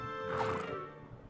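A horse in the Kingdom Hearts 3 video game lets out a single clear, rising whinny, fairly close and loud, then tapers off.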